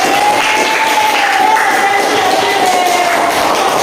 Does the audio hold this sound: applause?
yes